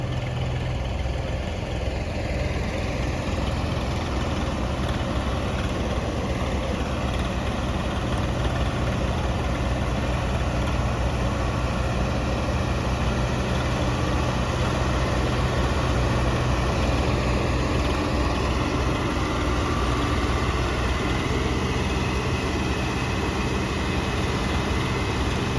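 Heavy tractor engines, a John Deere 5210, a Swaraj 855 and a Sonalika, strain together in a tug-of-war, a loud, steady low diesel drone with constant rumble throughout and no clear breaks.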